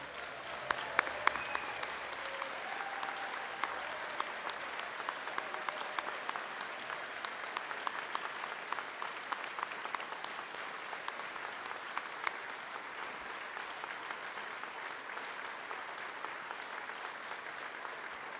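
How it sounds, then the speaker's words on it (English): An audience at the Prix de West art event applauds the attending artists, a dense, steady sustained clapping from a large crowd that holds for many seconds. "please stand up and receive the applause you so richly deserve"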